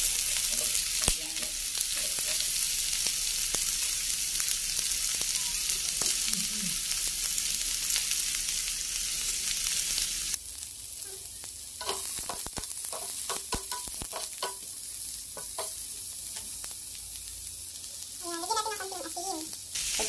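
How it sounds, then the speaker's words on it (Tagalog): Onion sautés in a hot pan with a steady sizzle and repeated scraping of a spoon stirring, close and fairly loud, the frying hiss dropping somewhat midway. "Tumulin natin ang sibuyas."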